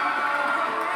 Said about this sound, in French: Lucie, on peut applaudir Lucie aussi.